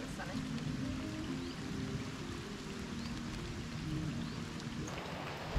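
Rain falls steadily in Nha Trang, a soft continuous patter with occasional drops, moderately quiet, while people talk over it.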